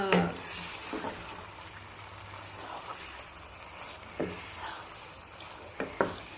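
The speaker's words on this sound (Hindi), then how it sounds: "पहले हम इसको भून लेते हैं थोड़ी देर तक" Beef pieces sizzle in a pan for karahi with a soft, steady crackle, broken by occasional louder stirring clatters, while someone talks over it.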